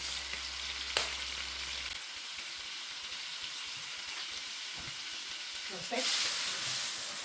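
Tilapia fish frying in a pan seasoned with smoked paprika, a seasoning cube and salt, giving a steady close sizzle with a few clinks and a louder burst of crackling near the end.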